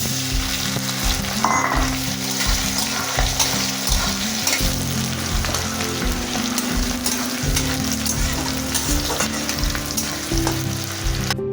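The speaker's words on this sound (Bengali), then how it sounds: "তেলটা গরম হয়ে গেছে, এবার আমি ফোড়নে জিরে দিয়ে দিচ্ছি। পেঁয়াজটা দিয়ে দিচ্ছি।" Cumin seeds and onion frying in hot oil in a wok, a steady loud sizzle and crackle with occasional stirring scrapes running through the whole stretch, no talk.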